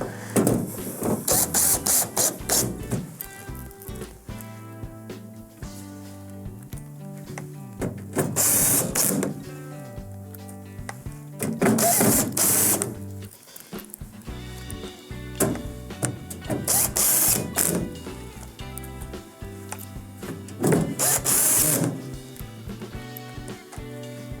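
A powered driver runs six long beveled number 2 Phillips screws into the top of a Whirlpool microwave's outer wrap, heard as repeated close whirring bursts separated by short pauses.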